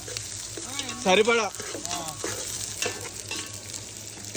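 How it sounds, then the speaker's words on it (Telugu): Onions frying in a pan for biryani at a night campsite, a steady sizzle with stirring scrapes running throughout, close, while a person talks briefly over it. "ఇవన్నీ మంచిగా రెడ్డిష్ అయ్యే వరకు వేగనియాలి"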